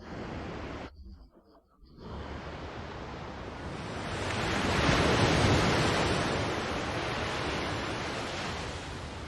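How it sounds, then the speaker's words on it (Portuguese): Ocean waves roll in with a broad hissing surge that swells loud at the middle and eases back, heard near and continuous after a brief dip at the start. "ouvir o som das ondas acalma a mente"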